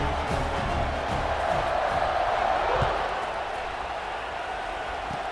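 A stadium crowd in the College Football 26 video game cheers after an extra point, a broad swell of crowd noise that fades slightly, with a commentator talking over it.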